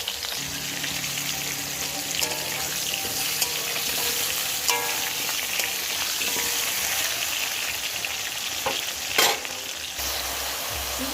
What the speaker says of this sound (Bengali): এই তেলটাতে আগে আলুটা ভেজে নেব